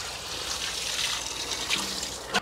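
Water trickling steadily onto chili and pepper plants in a garden bed, a soft continuous splashing and dribbling close by, heard alone without voices.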